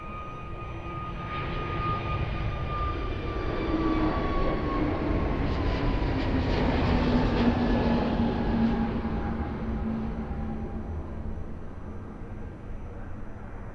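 A passenger jet takes off from runway 02 at Lisbon Airport, its engines roaring steadily at a distance and swelling to a peak midway before easing off, with a descending whine threading through the broad rumble.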